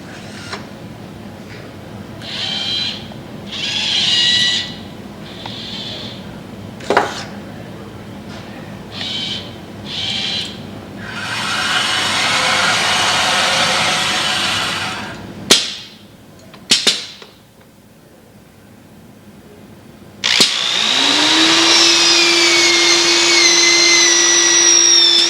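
A 1996 student robotics workcell moves a pen and pencil holder and drills its third hole, with intermittent mechanical whirs and clicks, a sustained broadband drilling roar, sharp knocks, then a steady pneumatic hiss with a low motor hum.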